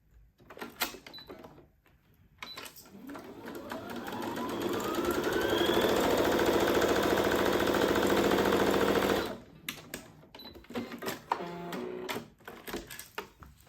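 A sewing machine stitches a straight seam along the edge of fabric for an ostomy bag cover, its motor ramping up into a steady, loud whirring run for several seconds before stopping, with handling clicks before and after.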